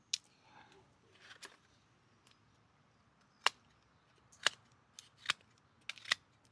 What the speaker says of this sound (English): Now let's try the scissors